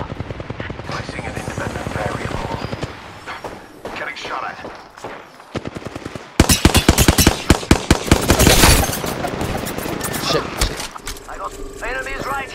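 Apex Legends combat with close, sharp gunshots and rapid automatic bursts, quieter during the first half and then a loud dense barrage, with footsteps and character voices talking throughout.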